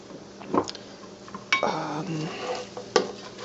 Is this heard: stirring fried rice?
yes